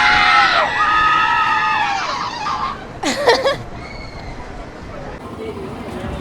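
People on an amusement park ride scream loudly in long, rising and falling shrieks, followed by a sharp burst of louder screaming, then quieter crowd chatter and babble in the background.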